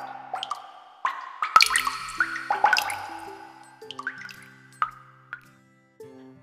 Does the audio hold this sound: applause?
no